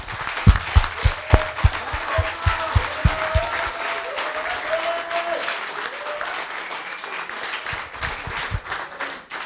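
A keynote audience breaks into loud applause, dense clapping that swells and holds steadily, with a few sharp individual claps near the start and a faint voice murmuring through it.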